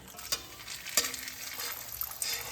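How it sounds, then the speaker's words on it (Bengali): Bay leaves, a dry chilli and whole garam masala spices sizzling in hot mustard oil for a Bengali chicken curry, a faint, steady crackle with a few sharper pops and stirring scrapes, no talk. "তেলটা গরম হয়ে গেছে। আমি এখন এর মধ্যে ফোড়নের জন্য দেবো 2টো তেজপাতা, 1টা শুকনো লঙ্কা আর গোটা গরম মশলা।"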